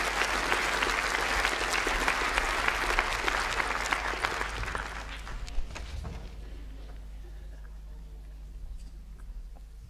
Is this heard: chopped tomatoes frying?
no